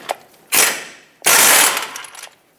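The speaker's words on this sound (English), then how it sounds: "Now with a 24mm socket, remove the 2 bolts that hold the caliper bracket onto the front axle." A 24mm socket ratchet loosens the caliper bracket bolts on the front axle of a 2011-2018 RAM 2500, giving two loud, close bursts of clicking ratchet noise with a brief pause between them.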